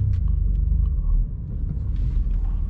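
BMW M2 Competition driving on the road, a deep steady engine rumble and road drone heard from inside the cabin, constant and fairly loud throughout.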